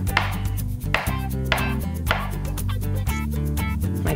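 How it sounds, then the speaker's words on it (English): A kitchen knife cuts up an avocado for tacos with quick, regular chopping strikes against a cutting board, steady and close, over background music. "I'm going to very quickly cut up my avocado"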